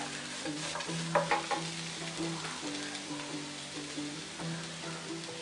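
Grated coconut sautés in a pan with a moderate, continuous sizzle and light stirring scrapes, close and fairly quiet, with a faint tonal hum beneath.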